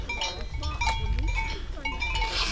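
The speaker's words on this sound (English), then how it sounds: "I think these are the cows, but I cannot see them." Cows graze unseen in fog on an Alpine pasture at Seiser Alm, where clanking bells ring over a low, steady rumble of wind or ambience and faint animal calls.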